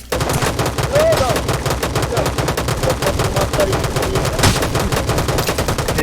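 Rapid gunfire from the battle royale video game Rules of Survival, a dense, steady stream of loud shots running the whole time with a few faint voices mixed underneath.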